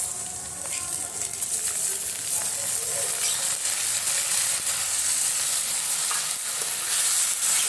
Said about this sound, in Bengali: আমি একটু ভেজে নেব, নাহলে হচ্ছে খিচুড়িটা ঝরঝরা খিচুড়িটা হবে না।